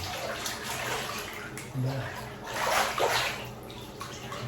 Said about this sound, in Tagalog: At nakaka-relax po yung mga ganitong pag-uulad sa tubig.